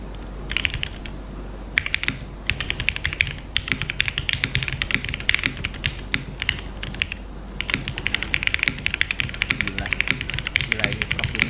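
Rapid, continuous clacking of a foamless Frog TKL mechanical keyboard being typed on, crisp and close, with brief pauses between bursts of keystrokes.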